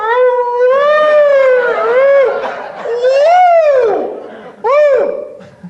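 Comedy club crowd at a Sacramento show hooting long rising-and-falling "woo" calls, several loud voiced whoops in a row with a brief gap before a final short one, close and prominent.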